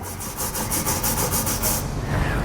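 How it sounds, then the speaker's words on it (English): A tube brush scrubbing the oiled weld nut threads on a 2016 Dodge Grand Caravan during a trailer hitch install, a close, loud rhythmic back-and-forth scraping in quick regular strokes with no talk. "I'm going to use a tube brush to clean them out."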